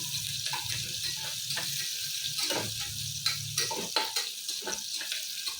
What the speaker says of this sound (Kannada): ಈರುಳ್ಳಿ ಹಾಕ್ಕೊತಾ ಇದ್ದೀನಿ ಯಾಕಂದರೆ ಚೆನ್ನಾಗಿ ಎಣ್ಣೆ ಕಾದಿರುತ್ತಲ್ವ